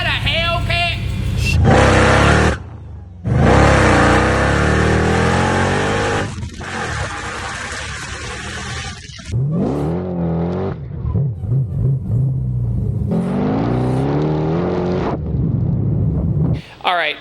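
An 800 hp Hellcat-swapped Dodge Magnum accelerating hard with supercharger whine, the engine roaring loudly through rising revs, briefly cutting out between pulls, then revving again under the cabin.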